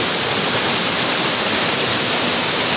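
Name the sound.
Bamni Falls waterfall, Ajodhya Pahar, Purulia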